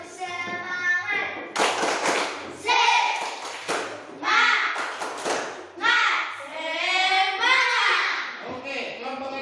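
Children's group in a classroom doing a rhythmic clapping chant, young voices chanting loudly in unison with claps and thumps mixed throughout.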